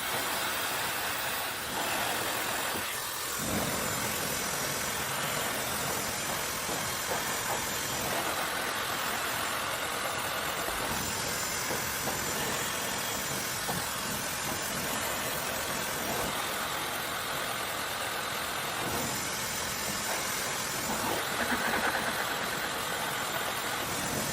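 A hair dryer with its nozzle removed blows loud, steady air over hair extensions throughout, a continuous close roar with slight fluctuations as it moves.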